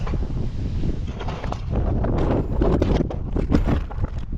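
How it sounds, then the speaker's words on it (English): Strong gusty wind in rainy weather buffets the microphone with a continuous rough roar, broken by irregular thumps and rattles. "it's horrible and windy and rainy"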